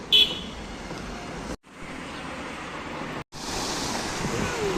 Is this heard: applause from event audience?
no